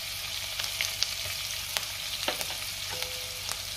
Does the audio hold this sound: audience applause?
no